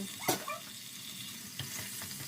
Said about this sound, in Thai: ผัดต่อ จนกะทิแตกมันอีกรอบและเข้ากับพริกแกง